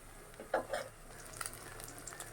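Potato snacks fried three at a time in hot oil give a faint, steady sizzle, with a couple of soft stirring clinks near the start.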